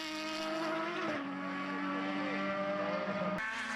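Formula BOSS single-seaters race past on an Irish circuit out of a hairpin and along the pit wall, engines whining and shifting pitch as they pass at moderate distance, with a sudden cut near the end.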